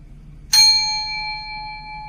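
A single chime is struck once during a breathing exercise, a bright metallic ring with clear sustained overtones that decays slowly over two seconds in a quiet room.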